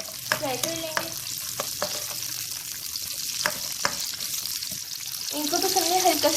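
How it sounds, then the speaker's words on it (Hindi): Onions frying in hot oil in a kadhai, a steady close sizzle with occasional stirring clatter of a spoon against the pan, building slightly louder toward the end. "फिर हमने ऑयल ऐड कर दिया है और इसमें हम ऑनियन ऐड कर देंगे और इनको हम जो है फ्राई कर लेंगे।"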